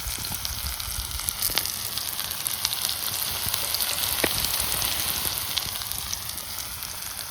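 Tomatoes with a pinch of turmeric sizzling on a hot tava griddle, a steady close crackle and hiss of frying with occasional sharper pops and no voices.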